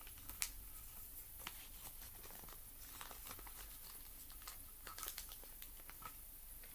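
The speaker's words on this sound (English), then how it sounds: "we'll just fold down the wings as far as they go" Paper being folded into the wings of an origami crane; soft, faint crinkles and small creasing snaps come close up in quiet surroundings, with no talking.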